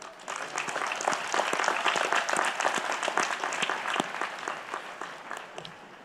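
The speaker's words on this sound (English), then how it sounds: "Please join me in a round of applause for our platform party." A large graduation ceremony audience claps continuously, a dense, steady wash of applause that holds for several seconds before starting to thin out.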